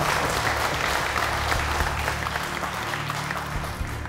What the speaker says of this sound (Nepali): अर्को ताली बजाइदिनुहोस् न उहाँ